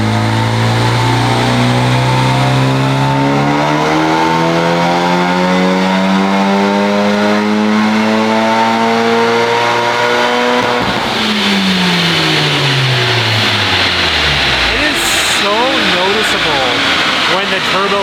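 Honda Civic Type R FK8 with an upgraded turbo revving hard on a dyno, a loud sustained engine note climbing in pitch, dropping sharply near the middle, then rising again, with voices talking over it.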